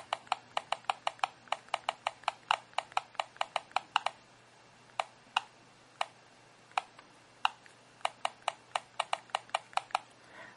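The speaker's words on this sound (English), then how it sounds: "you type down here to start typing. That noise could be disabled in the settings" Typing on the virtual keyboard of an HTC HD7 phone produces crisp, regular clicks in fast bursts, a pause, then slower scattered taps, close and clear with no talking.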